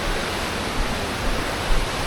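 A mountain creek rushes in a steady, loud broadband wash of flowing water, constant and close, with no talk.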